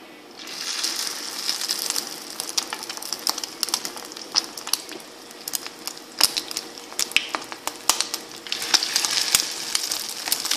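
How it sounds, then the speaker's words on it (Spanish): Chicken patties sizzle and crackle in hot oil in a frying pan, a steady dense frying hiss with scattered sharp pops throughout, close and fairly loud with no talking. "Aquí ya tenemos nuestro aceite caliente. Con una cuchara sopera vamos a empezar a hacer nuestras tortitas."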